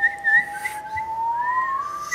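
A person whistles in imitation of a baby chick's peeping, with a sustained, gently rising tone and short wavering chirps, close and clear.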